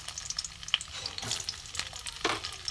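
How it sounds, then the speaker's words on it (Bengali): Potato-stuffed pointed gourds fry in hot oil over a low flame, giving a soft, steady sizzle with scattered crackles and pops, quiet and close, with no talking. "গ্যাস কমিয়ে একদম লো ফ্লেমে আমি এটাকে ভেজে নেব"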